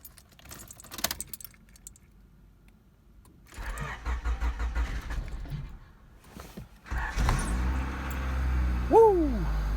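A Honda Civic with a problem being started: keys jangle first, then the starter cranks in a short burst, pauses, and on a second try the engine catches and settles into a steady idle, with a faint whine near the end.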